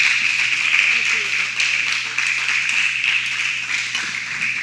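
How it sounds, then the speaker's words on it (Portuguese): A church congregation applauds for pastor Jorge, a steady wash of many hands clapping at close range while a voice speaks over it. "Mais palma, mais palma."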